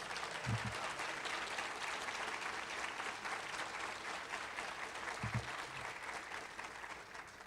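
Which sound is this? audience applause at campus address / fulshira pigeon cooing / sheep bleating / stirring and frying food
audience applause at campus address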